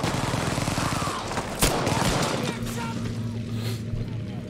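Rapid video game gunfire crackles in bursts with a sharp single shot, layered under a player's voice and a low rumbling background.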